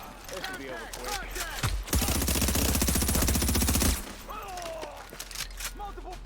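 Video game gunfire from The Division: a sustained two-second burst of rapid automatic fire, loud and close, with scattered shots and game voices before and after.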